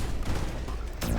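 A mag pulse weapon fires at a security bot in the System Shock video game, giving a short, dense, crackling energy burst with a sharper hit near the end.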